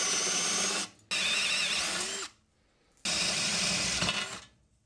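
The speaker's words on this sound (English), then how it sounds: "Next up, I drill through the back door." An electric drill bores through a bicycle frame's thick metal, whining in two long bursts with a short pause between and a silence after, loud and close, grinding steadily.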